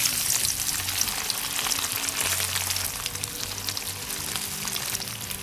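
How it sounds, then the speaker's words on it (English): Paneer cubes fry in hot oil for an Indian aloo mattar paneer dish, giving a dense, continuous sizzle with bubbling crackle close by and no voices. "we're going to go ahead and just start frying these out now."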